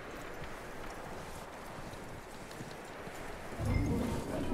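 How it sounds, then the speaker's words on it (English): Horse hooves clip-clop steadily in Red Dead Redemption 2, a soft continuous patter under ambient noise, growing slightly heavier and closer near the end. "That looks like a decent horse."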